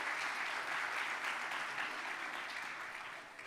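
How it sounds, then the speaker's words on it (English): Audience at a conference opening session claps together in a steady, dense wash of applause that holds evenly and begins to thin slightly toward the end. "Give yourself a round of applause."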